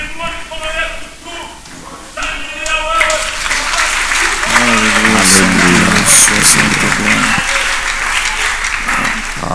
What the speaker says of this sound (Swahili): Chapia tena Bwana Yesu makofi makubwa sana.